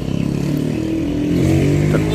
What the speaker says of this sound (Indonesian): celah klepnya disetel pas mesin berisik banget